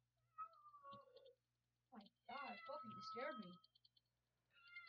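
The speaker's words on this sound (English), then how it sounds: "And that's my cat." A house cat meows several times, close by, with short separate calls in a quiet room, and a person talks between and over the meows.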